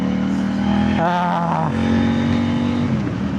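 A CFMOTO 800NK motorcycle engine idles loudly close by, then revs up briefly with a rising whine before settling back to a steady drone.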